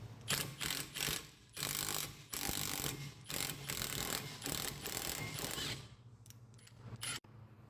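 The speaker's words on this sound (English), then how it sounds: "take the nut off." A hand ratchet clicks rapidly in repeated bursts while removing a nut from the rear strut of a Porsche 986 Boxster. The clicks are close and crisp, with short pauses between strokes and no speech.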